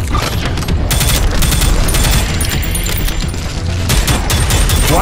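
Rapid continuous gunfire in the shooter game Prodeus, loud and dense, with sustained automatic bursts layered over booming impacts and music, and no talking.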